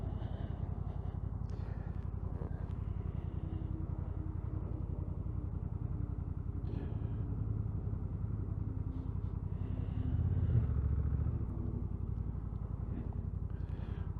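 A motorcycle pulls away from a road junction in riding mode S2, its engine a steady low rumble throughout with wind noise, rising slightly toward the end.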